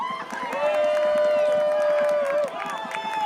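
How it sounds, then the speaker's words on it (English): A crowd roars and cheers at a men's lacrosse game between Christian Brothers and Bella Vista, loud and sustained, with a bright whistle-like tone running through the middle and an announcer's voice over it. "so the crowd's getting revved up"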